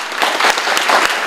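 Audience applause at a flag-raising ceremony, a brief, dense burst of clapping from a crowd, steady and close for just over a second.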